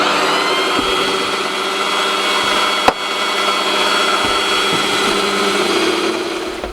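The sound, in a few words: drilling a hole through a stainless steel bolt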